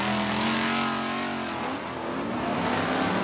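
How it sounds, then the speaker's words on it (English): Off-road race trucks roar past on a dirt track during a pro championship race, engines loud and close with a rising, shifting pitch as they accelerate. "If you go back to the racing action, CJ Greaves now has gotten around Ross Hook."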